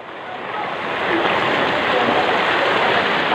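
Flood water in the streets of Cainta, Rizal, rushing steadily with a broad, loud roar that swells in the first second and then holds constant, close by and unbroken by speech.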